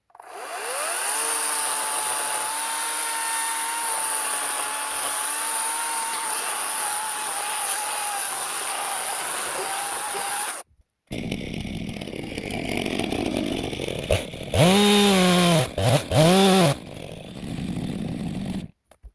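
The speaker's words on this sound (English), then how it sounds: "I need to make a cut down here, and then I need to make a little plunge cut in here and cut away some of this wood" Chainsaw plunge cutting a heavy leaning tree during a Sizwell felling cut: a loud, close, sustained high-revving whine for about ten seconds, a brief cut-out, then rougher revving bursts and throttle blips.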